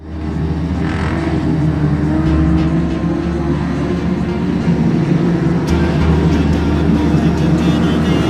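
Junior sedan race cars launch into a heat at Mildura Speedway for the Australian title, a loud, dense roar of several engines revving hard and sustained throughout, with a brief pitch shift partway as cars accelerate down the straight.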